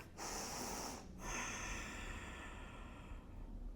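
A single deep breath drawn in slowly through the nose and then let out, close and quiet with no talking, during a gentle stretching session.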